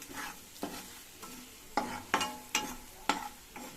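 Ground coriander and chili powder fry in a pan with a low sizzle, broken by a series of sharp spatula scrapes and stirs coming in uneven bursts, close and fairly quiet, with no voices.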